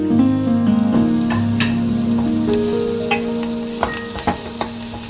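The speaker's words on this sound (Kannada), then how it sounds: "ಸ್ವಲ್ಪ ಈರುಳ್ಳಿ ಕಲರ್ ಚೇಂಜ್ ಆಗೋವರೆಗೂ ಫ್ರೈ ಮಾಡೋಣ." Onions fry in a hot pan with a steady sizzle and occasional stirring scrapes, close and loud, with no voices over it.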